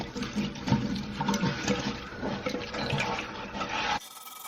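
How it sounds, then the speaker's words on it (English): A brush scrubs the inside of a toilet bowl cleaned with vinegar, swishing and sloshing through the water in a busy, continuous scouring that stops abruptly near the end, followed by quiet. "Just gonna scrub this."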